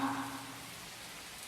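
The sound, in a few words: rain falling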